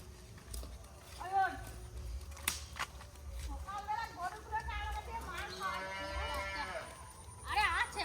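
A calf or cow moos a few times in a rural village setting, the calls mid-distance and partly under nearby chatter and footsteps.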